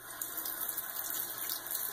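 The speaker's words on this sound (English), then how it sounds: "That's just me rinsing my hand, and I just splash a little water in there" Water runs steadily from a tap as a hand is rinsed and a little is splashed into a shaving lather bowl, a continuous close hiss with faint splashy flutters, no talking.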